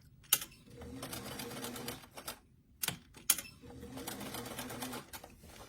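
A sewing machine stitching the corner of a doll shrug sleeve, with quick rattling bursts of needle clatter broken by short pauses and sharp clicks, close and fairly quiet.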